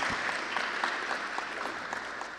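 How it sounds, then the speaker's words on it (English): A crowd at a human rights learner dialogue with a minister applauds, producing a steady, thick wash of clapping that carries evenly from start to finish. "Another round of applause."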